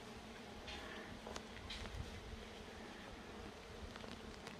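A faint, continuous buzz of wild bees out in the Jamaican hills, with scattered brief rustles and clicks over the low drone.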